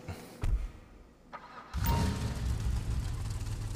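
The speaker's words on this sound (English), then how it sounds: "Let me go start up the other car for y'all." A car engine in GTA 5 Online cranks and roars to life, settling into a loud, rumbling idle after a couple of brief clicks.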